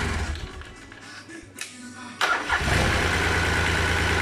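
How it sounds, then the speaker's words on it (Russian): A Mitsubishi MM15T engine, running without spark plugs, cranks for a moment with soft clicks and then catches at once, settling into a loud, steady idle close by. "Сейчас посмотрим, как заведется. Заводится."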